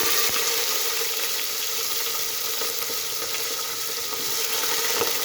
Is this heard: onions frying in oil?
yes